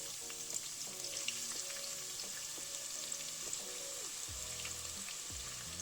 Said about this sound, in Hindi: अब इनको हम गरम ऑयल में गोल्डन ब्राउन करेंगे।